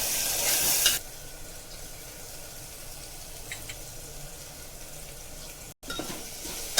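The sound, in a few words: ginger garlic paste and masala frying for keema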